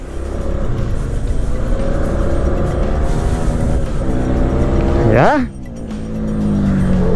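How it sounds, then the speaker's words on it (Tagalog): An FKM Venture ADV 180 motorcycle engine hums steadily at slow riding speed, then revs sharply upward near the end before dropping off and resuming; a voice briefly speaks over it. "Para ma-test ride ang motor na to. So test natin siya, slow speed muna."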